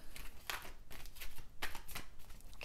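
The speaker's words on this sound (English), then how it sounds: "One more shuffle here." Tarot cards being shuffled by hand, with repeated crisp riffling bursts and rustling flicks at close range, quiet and steady over about three seconds.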